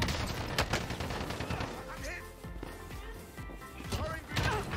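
Grenade hit in the Call of Duty Warzone video game, a burst of sharp impacts and gunfire-like cracks mixed into busy game audio, with players talking over it.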